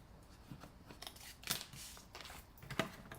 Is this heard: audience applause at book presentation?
no